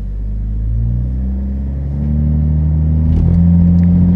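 Toyota Supra MKV engine held on the brake and revved before a launch, a loud, close, steady rumbling drone that rises slightly in pitch toward the end, with no talking.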